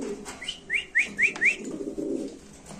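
Red Danish and king pigeons cooing, a run of four quick rising coos near the mic over a low murmur of background noise, with no talk.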